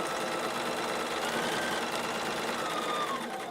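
A Gemini sewing machine runs steadily through fabric while piecing a quilt block, a continuous close mechanical whir with no pauses.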